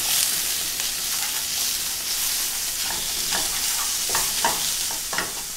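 Garlic and fatty ground pork fry over a very strong flame, with a constant hissing sizzle broken by scraping strokes of stirring, close and fairly loud, no voices.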